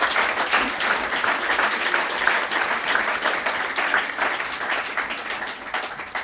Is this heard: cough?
no